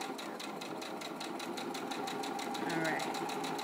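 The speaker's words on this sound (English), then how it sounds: "you don't ever want to pull on your fabric going through your machine" A sewing machine stitches bias tape onto fabric for a face mask with ties, a fast, even rhythmic clatter running throughout while a person talks over it.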